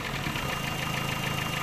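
Vauxhall Astra engine with an ECU fault, idling steadily nearby with a continuous mid-pitched hum and a slight regular pulsing vibration, no voices.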